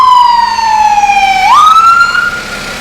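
A fire truck siren wails from a fire station close by, loud and near, its tone holding low then sweeping sharply upward in a rising whoop before steadying.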